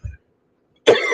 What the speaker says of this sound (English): Of course, I've got a coughing fit like I have.